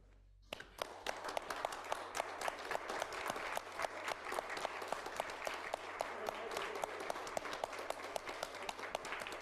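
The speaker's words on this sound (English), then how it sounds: "I'm just wondering if everyone would stand up and give a round of applause to our physicians." Council meeting attendees stand and clap for physicians, the applause starting abruptly after a brief quiet moment and continuing as a lively, sustained round with distinct individual claps audible throughout.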